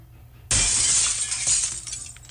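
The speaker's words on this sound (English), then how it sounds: "That was glass shattering." Window glass shatters in a golf video game after a wood shot, a sudden loud crash followed by tinkling debris that trails off over a couple of seconds, with no talk.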